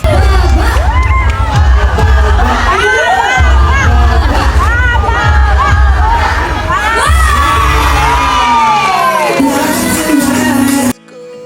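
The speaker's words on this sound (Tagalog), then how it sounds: "sabay sila sumigaw ng pababa-pababa hanggat nanalo si Andres." A crowd shouts together with cheering on a Philippine noon-time TV variety show, loud and continuous with raised voices and babble throughout, cutting off abruptly near the end.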